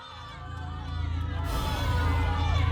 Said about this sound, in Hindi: ये कैसी आवाजें आ रही हैं गांव से? ऐसा लग रहा है लोग चीख रहे हैं।